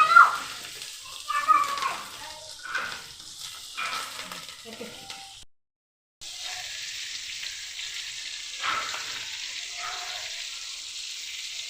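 Cumin and fenugreek crackle and sizzle in hot oil for tempering, with a spoon stirring through the pan; the frying hiss drops out briefly midway, then returns as a steady, fainter sizzle.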